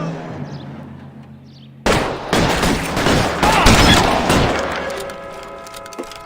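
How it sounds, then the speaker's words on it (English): A shotgun blast in the video game L.A. Noire: after a quiet lead-in, a sudden loud report, followed by a dense burst of gunfire with crackling shots that slowly trails off. "This is a friggin' shotgun."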